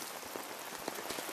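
Steady rain falls in a close, even hiss, with soft individual drops tapping through it and no voices.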